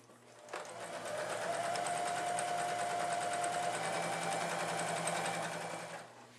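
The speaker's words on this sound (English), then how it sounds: "we're gonna sew them together with right sides together, not the top, just the sides" Sewing machine stitching the side seams of Christmas stocking lining pieces placed right sides together: one steady, continuous motor whir and needle rattle running for about five seconds, close and even, with no talking.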